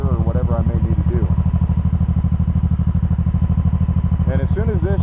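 A motorcycle engine idles at a stop with a steady, fast low thumping pulse throughout, close and loud, while someone talks over it at the start and end.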